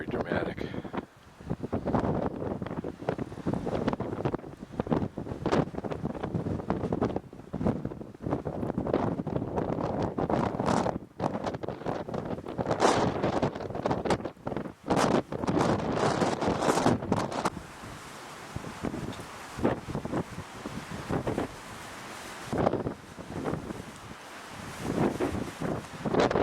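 Gusting dust-laden wind at a Canyonlands overlook before sunrise, a continuous loud roar and buffeting that batters the microphone throughout.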